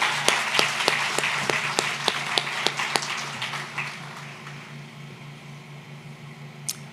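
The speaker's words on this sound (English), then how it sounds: "Give her a round of applause." Graduation ceremony crowd at a Brooklyn school applauding an award winner, with several distinct sharp claps standing out over a softer dense clatter that gradually fades.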